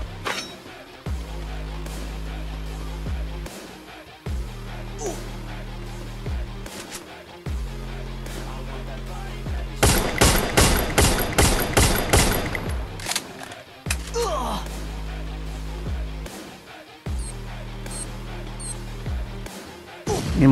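Gunfire from the video game Free Fire rattles through repeated rapid bursts, with one dense, louder volley in the middle over a steady game background hum; a grenade explosion is not clearly separable.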